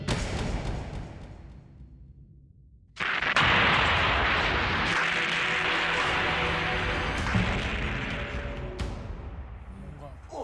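A heavy bomb blast erupts after a brief lull, a loud, broad roar that rumbles and slowly fades across several seconds, with voices talking before it.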